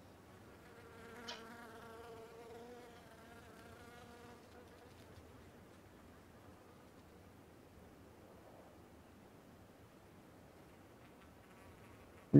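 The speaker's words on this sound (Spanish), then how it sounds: "¿Cómo molesta esa mosca, boludo?" A fly buzzes close by with a whiny harmonic drone that fades over several seconds into a quiet, steady background hiss.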